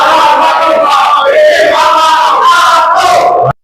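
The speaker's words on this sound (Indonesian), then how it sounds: "Beri aplaus buat kelompok 3." An audience at a school teaching assessment cheers loudly as a crowd, a continuous mass of shouting and applause for group 3 that cuts off abruptly at the end.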